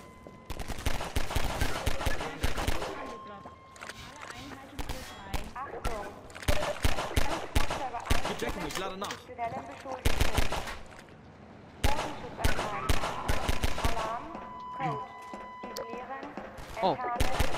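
Mounted gun firing in Half-Life 2 co-op (Synergy), loud rapid bursts of close automatic shots in repeated volleys with short gaps, a voice speaking between them.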